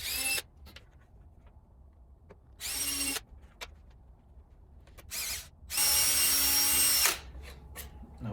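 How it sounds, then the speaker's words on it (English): A power drill fitted with a 5/64 bit bores pilot holes for screws while a Dell 2007fp 20-inch monitor bezel and mount are installed, giving several short, loud, close whirring bursts separated by quiet gaps, the last burst longest. "Now I used a 5/64 bit, which is just enough to give me a pilot hole for these screws to dig in and bite."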